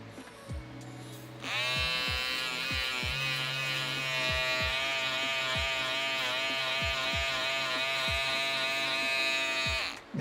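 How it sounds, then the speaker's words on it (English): A steady, high-pitched electric whir of a rechargeable air blower starts after a brief quiet moment and runs continuously in a workshop, with some soft clicks and knocks underneath. "it's just an air blower that, a rechargeable air gun kind of thing"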